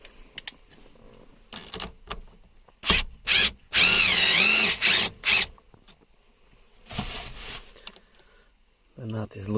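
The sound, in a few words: power tool loosening nut on Nissan 350z parking brake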